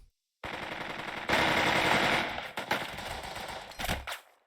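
Rapid machine-gun bursts from the video game Burden of Command, a dense loud rattle of sustained automatic fire that swells midway, then breaks into shorter bursts before fading.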